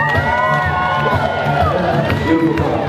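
Wedding reception crowd cheering and whooping in a lively wash of voices, with music and a few shouted words mixed in.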